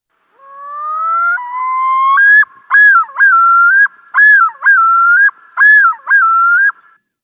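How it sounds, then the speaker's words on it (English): Yodel of a male loon, a loud, clear wavering call: rising long notes followed by a rapid series of repeated swooping phrases, ringing alone over silence. "That's actually the yodel of a male loon."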